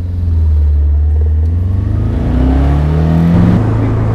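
A 1969 Alfa Romeo Spider open-top drives along with a loud, continuous engine drone, its pitch rising and falling through gear changes, heard close and alone.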